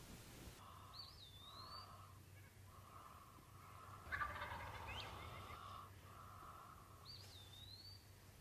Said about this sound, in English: right off the bat, we've got turkeys a-gobbling all around us